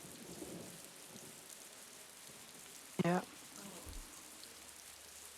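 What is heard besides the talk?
heavy rain in a video game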